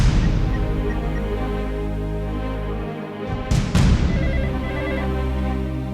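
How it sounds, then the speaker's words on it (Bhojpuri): A telephone rings in a home for several seconds, a continuous electronic ringtone that is loud and close with a brief break partway through. "कब से फोन बज रहल बा"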